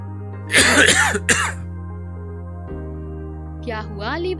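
Two short, loud coughs close together, followed after a pause by a fainter third, over a steady low background hum.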